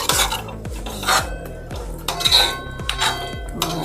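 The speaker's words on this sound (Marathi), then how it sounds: "आता हे सर्व एकदा पुन्हा मिक्स करून घेऊया आणि 5-7 मिनटं आणखी चटणी शिजवून घेऊया" Schezwan chutney stirred in a cooking pot, a spoon scraping and clinking against the metal in quick repeated strokes, close and fairly loud.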